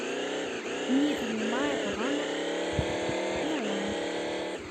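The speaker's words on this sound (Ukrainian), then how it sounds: "Дальше у нас мотоцикл." A motorcycle engine in the Chicken Gun video game revs up and down repeatedly, a buzzy harmonic whine rising and dipping in pitch, with brief speech over it.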